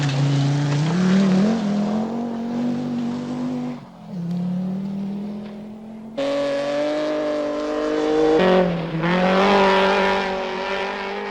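Toyota Celica rally cars of the 1983 Toyota Team Europe race past, engines loud and close, revving hard through rising gear changes with brief drops between shifts.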